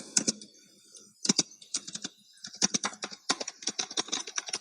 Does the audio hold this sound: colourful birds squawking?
no